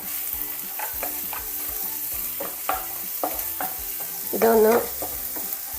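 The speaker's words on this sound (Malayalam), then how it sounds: "ഇഞ്ചിയും വെളുത്തുള്ളിയും ചെറുതായിട്ട് വഴറ്റിയെടുത്തിട്ടുണ്ട്" Finely chopped garlic and ginger sauté in a pan for a sweet corn soup, a steady sizzle broken by repeated scraping stirs and one louder clatter near the end, with a single brief spoken word.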